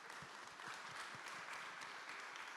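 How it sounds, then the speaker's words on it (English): Audience applause on stage at a Bitcoin conference panel, a brief burst of steady, dense clapping at a moderate level for just a couple of seconds. "Big round of applause for Fabian, guys."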